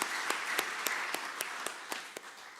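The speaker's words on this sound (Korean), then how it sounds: "우리 한번 박수로 한번 격려하도록 하겠습니다." A church congregation at an evening youth worship service gives a short round of applause: soft, steady crowd clapping heard from a distance, with a few sharper individual claps standing out.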